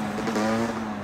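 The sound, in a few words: motorcycle doing a wheelie passing by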